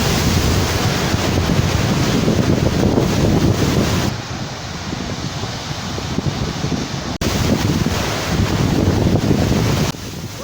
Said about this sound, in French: Saba-Saba est l'expression pour situer la période de grand vent qui dure 7 jours aux environs de juillet